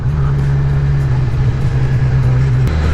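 A Kawasaki Z900 motorcycle pulling hard under acceleration, a loud, close, steady engine drone holding a strong low tone for several seconds before the pitch shifts near the end.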